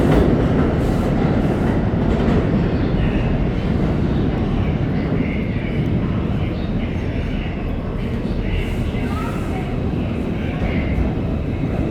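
A subway train rumbles loudly and continuously through a station in downtown Brooklyn, New York, a heavy steady roar with faint rhythmic clatter of wheels on track.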